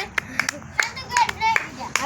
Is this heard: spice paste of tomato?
no